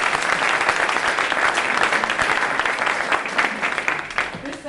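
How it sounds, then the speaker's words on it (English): Loud, sustained applause from a lecture audience at Purdue, continuous dense clapping from a large crowd throughout with no gaps. "Let's please give Brian Lamb, native of Lafayette, a big round of applause."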